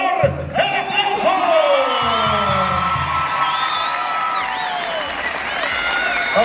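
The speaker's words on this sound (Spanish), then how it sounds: "¡el aplauso!" Audience at a shouting contest erupts in cheering and whooping, loud and dense, with a crowd clamor of voices and some clapping mixed in, sustained throughout.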